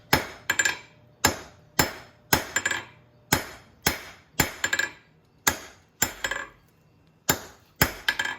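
Hammer blows on hot steel as the struck end of a round hand fuller is tapered at the forge, sharp ringing strikes coming in short bursts of two or three with brief pauses between, close and clear with no talk.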